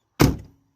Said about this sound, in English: And that solid door thud.